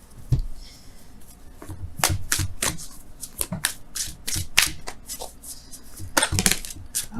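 Wisdom of the Oracle cards are shuffled by hand, close and crisp, with repeated sharp riffles and soft rubbing slides in an irregular rhythm, no talk over them.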